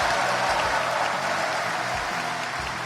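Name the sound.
audience applause for President Moon Jae-in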